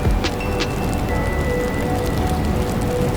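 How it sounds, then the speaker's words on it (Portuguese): Heavy rain falls steadily on a Tokyo street at night, a dense continuous patter with a faint high tone running underneath and no talking. "Você pode ouvir o barulho da chuva e ver que está intenso"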